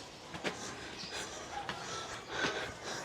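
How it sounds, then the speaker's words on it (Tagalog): Heavy, labored panting from a person hiking up a steep hill on Boracay, with breathy snorts and gasps repeating at close range over faint outdoor ambience. "Pag narinig niyo yung hingal ko"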